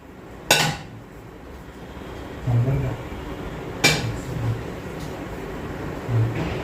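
A pressure cooker set down among pots in a home kitchen gives a few sharp metallic clanks, one near the start and another midway, with softer knocks between and a low background hum.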